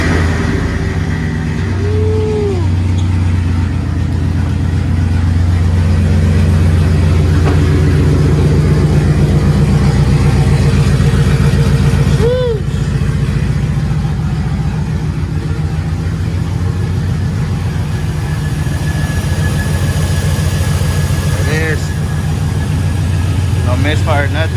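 A car engine runs steadily at idle after valve cover work and coil pack cleaning, with low rumbling and occasional revs throughout, while people talk over it.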